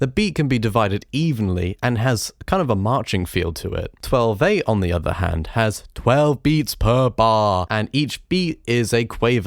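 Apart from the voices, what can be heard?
None of the usual background noises is heard.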